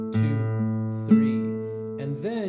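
Classical guitar playing the Romanza, with plucked notes, a low bass note under a higher string and then a few single notes ringing in a slow, clear sequence close up.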